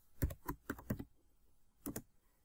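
Computer keyboard keys tapped in two quick bursts while entering census table IDs into a search bar, several crisp close clicks, a pause, then a short final flurry.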